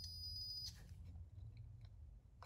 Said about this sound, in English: Continuity.